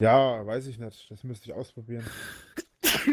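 A person gives a sharp sneeze near the end, following a stretch of casual conversational talk.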